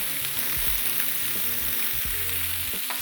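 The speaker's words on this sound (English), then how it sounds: "So we're gonna get our beef mince in here. Hear the sizzle." Beef mince sizzling and crackling steadily in a hot pan, a continuous close frying hiss with no talking.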